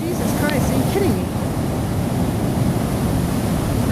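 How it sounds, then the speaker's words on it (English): Big ocean waves, 6 to 13 foot surf at night, roar as a steady, loud wash of broadband noise for the whole stretch, with no breaks between sets. "Really, really giant waves."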